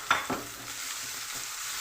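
Mushrooms fry in a pan with onion and chicken, two quick utensil scrapes up front followed by a soft, steady sizzle.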